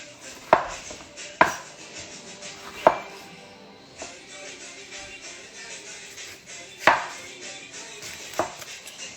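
Sharp knife strikes on a cutting board while slicing a fresh tomato for Afghan bolanee, about six distinct chops spaced irregularly over a soft kitchen background, fairly close.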